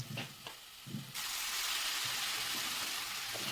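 Spinach tipped into a hot pan with salt and boiled chickpeas, a steady loud sizzle erupting after a few stirring clicks and continuing unbroken with soft scraping underneath.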